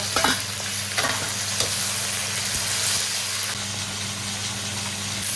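Scallion and ginger sizzle in hot oil in a home kitchen, a steady loud frying hiss with stirring scrapes and clinks, over a low constant hum from a range hood.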